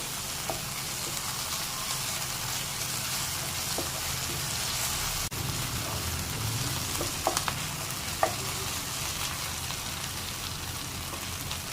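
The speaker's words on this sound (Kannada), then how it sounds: "ಅರ್ಧ ಸ್ಪೂನ್ ಆಗೋಷ್ಟು ಶುಂಠಿ ಬೆಳ್ಳುಳ್ಳಿ ಪೇಸ್ಟ್ ತಗೊಂಡಿದ್ದೀನಿ ಇದನ್ನ ಫ್ರೈ ಮಾಡ್ಕೊಳ್ಳಿ" About half a spoon of ginger garlic paste fries in a pan for a zucchini curry, giving a steady, close, dense sizzle throughout with a few faint clicks of stirring and no speech.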